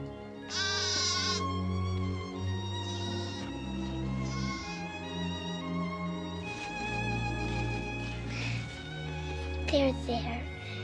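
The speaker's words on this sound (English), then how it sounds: "Oh, that poor little goat." A trapped little goat bleats in several plaintive, wavering cries set against steady orchestral music, the calls rising and falling over the accompaniment.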